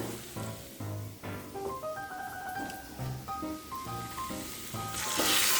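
Cooked dal and vegetables go into hot oil for avalakki bisibele bath, with steady sizzling and frying under a run of melodic background music. The sizzle swells louder toward the end.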